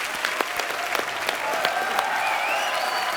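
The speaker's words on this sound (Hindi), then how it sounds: "तालियां बजती रहनी चाहिए।" Studio audience applause on a comedy talk show, a fairly soft, sustained wash of clapping with a few sharper individual claps standing out, and no talk over it.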